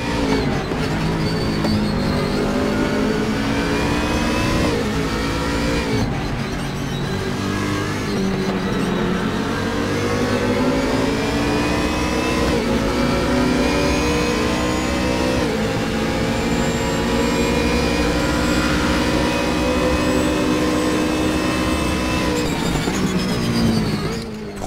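A pack of racing cars, including BMW Z4s, roar past at the Nürburgring in the RaceRoom sim racing game, engines revving and rising in pitch as they stream by continuously and loudly for over twenty seconds.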